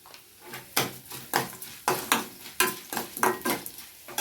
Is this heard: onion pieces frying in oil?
yes